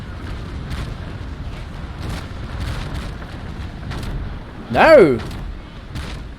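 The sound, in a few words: ship cannon broadsides in Naval Action video game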